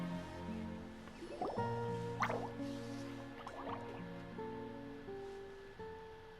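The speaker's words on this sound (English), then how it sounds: "Oh, it sounds like a water droplet is on the second floor." Water droplets dripping in Genshin Impact, faint plinks scattered over a quiet background of sustained musical tones.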